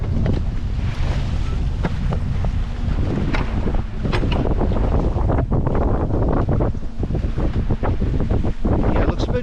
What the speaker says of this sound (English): Yeah, it looks about 15 knots of wind.